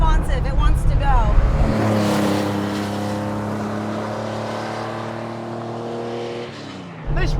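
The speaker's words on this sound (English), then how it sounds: "raspy, throaty, air-cooled induction, air getting sucked in" The air-cooled engine of a Porsche 911, built as the 277 Urban Outlaw, roars steadily under load while the car is driven on a road. Sustained harmonics rise and fall slightly with engine speed, and a voice talks over the start.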